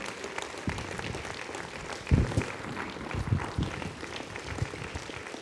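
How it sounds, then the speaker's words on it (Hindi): Audience at a business gathering applauding members called forward for platinum rank, a dense, continuous clatter of many hands with a few louder surges, filling the space throughout. "मिस्टर अमित कुमार गौतम, आइए, जोरदार तालियां।"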